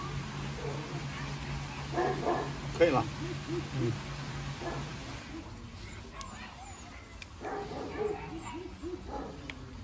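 A Rottweiler puppy yips, barks and whimpers in short bursts close by, while people talk over and around the little cries.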